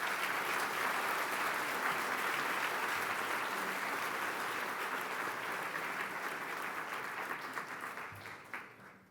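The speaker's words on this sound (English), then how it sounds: "Please give them a round of applause." At a gala, a large audience applauds the honored guests with dense, sustained clapping that holds steady and then thins and fades toward the end.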